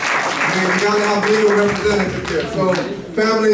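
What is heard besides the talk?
audience applause at conference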